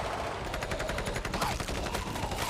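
Rapid, sustained gunfire crackles continuously at a steady automatic rhythm, loud and dense throughout, with no talking over it.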